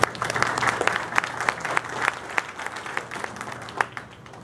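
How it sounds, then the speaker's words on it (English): An audience at a state senate candidate event applauds its hosts with a crowd of scattered claps, moderately loud and fading slightly toward the end. "if you would give them a round of applause, please"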